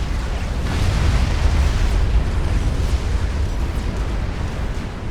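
Weapons fire and explosions in the video game Supreme Commander Forged Alliance, a steady, loud roar of overlapping blasts and bursts throughout, with no voices.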